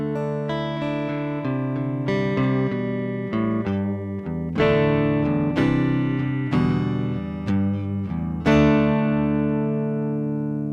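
An electric guitar tone captured with AI Magic Match software plays a dense, distorted, reverberant riff with ringing chords and single notes, loud and steady without talk.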